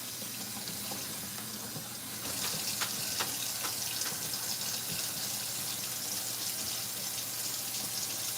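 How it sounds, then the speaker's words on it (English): Cooked pasta being drained in a kitchen sink, with a steady rush of poured water and tap-like flow that grows louder partway through and continues unbroken, close by with no talking. "I am draining the pasta."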